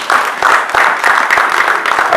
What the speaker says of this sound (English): I'd like that we please give him yet another resounding applause